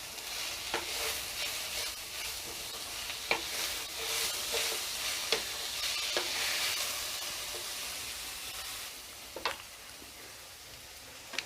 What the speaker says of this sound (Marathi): चांगलं असं मिक्स करूया।